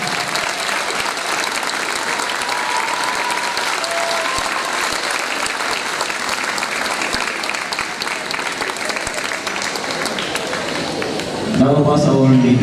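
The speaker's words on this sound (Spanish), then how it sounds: "Un aplauso." An audience at an artistic roller skating show claps in sustained, dense applause, with cheers rising near the end as a voice cuts in.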